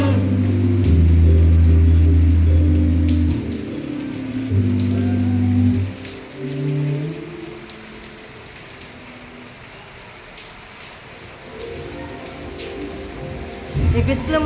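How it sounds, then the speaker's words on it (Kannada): Rain falls on surfaces during sunshine, a steady patter heard under a loud low engine-like hum that drops away midway, leaving the rain clearer before the hum returns. "ನೋಡಿ ಮಳೆ ಯಾವ ರೀತಿ ಬರ್ತಾ ಇದೆ"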